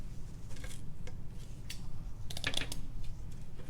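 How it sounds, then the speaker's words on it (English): Scissors snip through pipe cleaners, cutting them in half, giving faint, irregular crisp clicks and snips close by over a quiet room. "cut a bunch of pipe cleaners in half"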